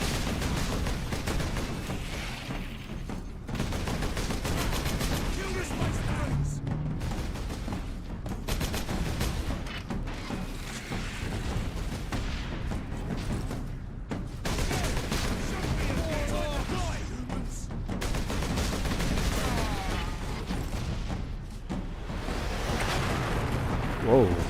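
Dense, continuous gunfire and explosive blasts from combat in the video game Warhammer 40k Space Marine, loud and sustained throughout with heavy rumbling bursts.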